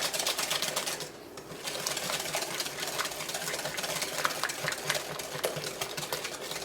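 Eggs are whisked by hand for a chocolate cake batter, a fast, continuous rhythmic clatter of the whisk against the bowl, close and steady with one brief pause.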